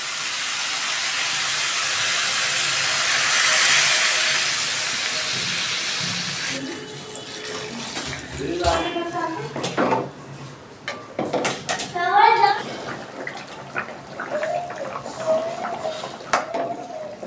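Water is poured into a hot pan for a thin rohu fish curry with potatoes, giving a loud steady hiss and sizzle at first that fades into bubbling and clatter, with a voice speaking over the later part.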